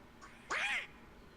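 A single bird cry in Kingdom Hearts II, one short, bright squawking call with a rising-falling tone, fairly faint, over a quiet background.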